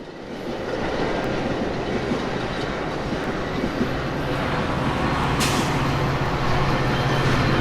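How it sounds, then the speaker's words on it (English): An eastbound Metra commuter train bound for Chicago arrives into Downers Grove station, heard from across the street. It makes a steady, broad rumble that builds slightly and holds, with no talk. "an eastbound arrives into the station on its way to Chicago"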